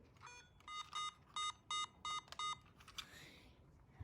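A CD player's small speaker sends out a string of short, evenly spaced electronic beeps, then a brief rising chirp, clear and fairly close in a quiet room.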